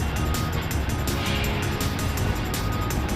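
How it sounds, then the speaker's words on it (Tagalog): Vehicles, including motorcycles, roll off a large passenger ship in heavy rain, a steady broadband rumble of engines and tires mixed with the hiss of pouring rain, continuous and fairly loud throughout. "naglalabasan ng sasakyan si Dose"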